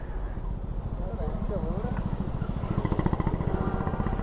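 A group of motorcycles rumbles near Dal Lake in Srinagar, their engines giving a steady, pulsing drone close by that grows slightly louder toward the end.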